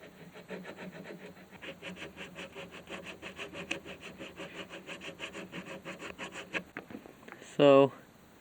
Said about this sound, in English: So I might have to sand that down.